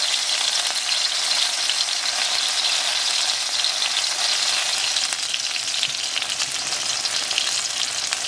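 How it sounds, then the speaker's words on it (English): Ginger and green onion fry in a pan with a steady, bright sizzle that stays even and moderately loud throughout, with no talk. "now we put the ginger and the green onion into the pan and keep frying them."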